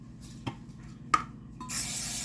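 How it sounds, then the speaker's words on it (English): A couple of light knocks and scrapes, then a sustained hiss of aerosol cooking spray coating a baking dish close by at the end. "I'm going to go ahead and spray down my dish here"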